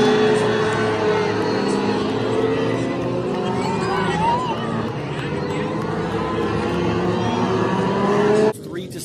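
Race cars roaring around the oval at Irwindale Speedway during a crash-filled race, a dense continuous engine drone with crowd noise beneath, loud and steady before dropping off abruptly near the end.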